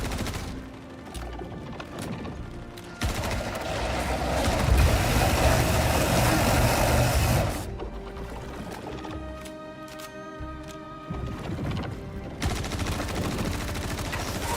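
Gunfire during a Star Citizen firefight: sustained, loud bursts of automatic shots over several seconds, tapering off and then returning in shorter volleys amid other game noise.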